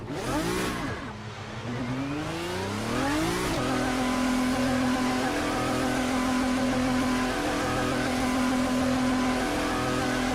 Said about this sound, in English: I want you to hear this. I really do. The gearbox in this thing.